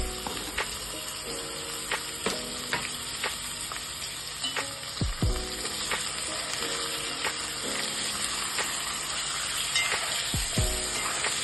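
Meat fries with onions in a pot for Kazakh pilaf, a continuous loud sizzle broken by repeated clinks and scraping of a utensil, with occasional low thuds and no talk.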